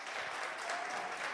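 A studio audience at a Georgian music show applauds, a dense, continuous wash of many hands clapping, fairly quiet and distant.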